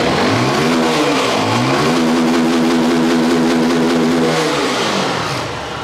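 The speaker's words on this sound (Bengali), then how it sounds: "এতে কিন্তু টাইটানিয়াম এক্সজস্ট ইউজ করা হয়েছে যা আপনাকে সুন্দর একটা সাউন্ড দিবে" A Zontes G1 motorcycle with a titanium exhaust revs up close and loud, climbing through two rising throttle blips before holding a high, steady drone and then easing back down.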